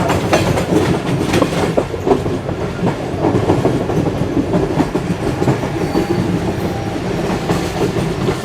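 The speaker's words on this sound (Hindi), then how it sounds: "स्पीड में गुजरी है जी ट्रेन, माशाल्लाह ज़बरदस्त। आखिरी डब्बा देख रहे हैं कैसे गुजरता है यहाँ से।" Passenger train passing at speed on a Pakistani railway line, its last coach going by with a steady, close clickety-clack of wheels over rail joints and a continuous rumble, loud and unbroken throughout.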